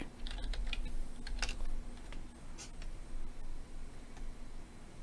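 Quiet keys clatter on a computer keyboard in irregular bursts of typing, close and soft, with no talking.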